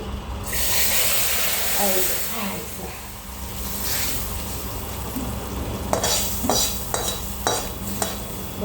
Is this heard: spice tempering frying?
yes